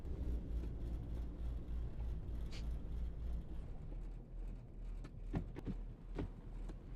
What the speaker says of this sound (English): Sounds like they put like a exhaust on the car.